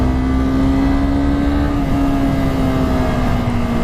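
A Honda CBR250R motorcycle engine pulls steadily up a hill, a loud, continuous drone with a steady pitch and rushing wind noise that lasts throughout, with no talking.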